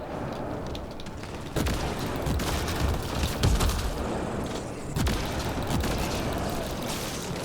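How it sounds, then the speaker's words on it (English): Shotgun blasts in the sci-fi video game Mass Effect Andromeda, several heavy booming shots among combat noise and rumble, spaced a second or two apart. "I guess the shotgun worked pretty well."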